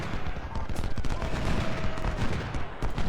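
Massed musket volleys from Civil War troops in Ultimate General: Civil War crackle continuously at a moderate distance, a steady dense rattle of overlapping shots with no break.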